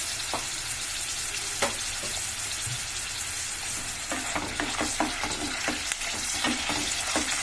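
Tempering with asafoetida sizzles in hot oil for a sun-dried tomato pickle, a loud, close, continuous hiss that breaks into rapid crackling pops in the second half, with no talking.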